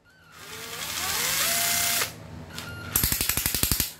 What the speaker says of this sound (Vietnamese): 4 búa thì búa nó gõ rất là nhanh luôn